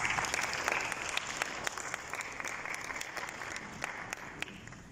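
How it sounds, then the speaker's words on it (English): Audience applause at an opening ceremony for PIAfrica in Mauritius: a dense, steady round of clapping from a sizeable crowd, holding at even volume throughout with scattered sharper claps standing out. "Let's give a big round of applause."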